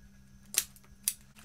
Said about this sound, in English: And then we can trim off any excess zipper tape that we've got.